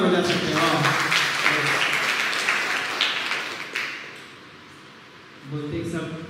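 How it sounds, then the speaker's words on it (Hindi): A church congregation at a Sunday evening Hindi service applauds loudly, a dense wash of clapping that fades over several seconds before a voice speaks again. "तो जोरदार ताली फिर से एक बार बजा सकते हो।"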